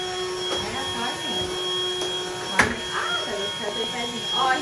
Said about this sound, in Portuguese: Olha, muito bom esse aspirador